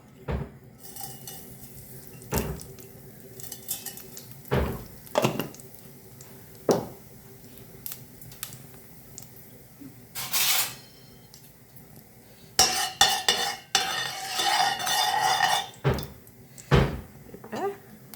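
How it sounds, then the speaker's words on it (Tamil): Mustard seeds and fenugreek drop into hot oil in a pan. Sharp metal clanks and scrapes come first, then a dense burst of crackling and spitting, all heard close up. "இப்போ கடுகு வெந்தயம் போட போகிறோம்."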